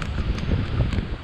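Steady, low wind buffeting the microphone at The Breakers Hotel, Palm Beach, Florida, rumbling and gusting continuously with no voices.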